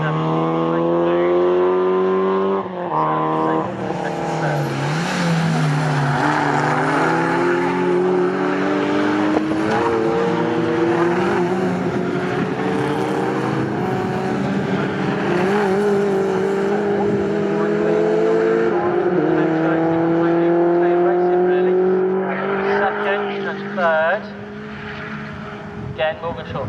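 Race cars in an MG Cup championship race at Snetterton circuit, engines roaring and sweeping up and down in pitch as they accelerate and brake through corners, loud and continuous, with a commentator talking over them throughout.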